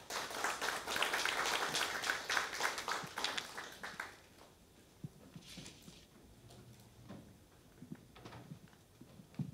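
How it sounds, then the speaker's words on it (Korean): A forum audience applauds to welcome a university food and nutrition professor, with a burst of clapping for about four seconds that thins into scattered, fainter claps and small noises. "교수님께 큰 박수로 환영해 주시기 바랍니다."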